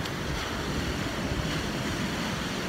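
Ocean surf washing onto an Australian beach on a summer Christmas Day, a steady broadband roar with gusty wind rumble across the microphone, continuous and fairly close with no voices.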